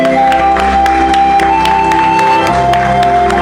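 A church congregation at a worship service claps in a regular rhythm, sharp evenly spaced claps sounding over loud sustained music throughout.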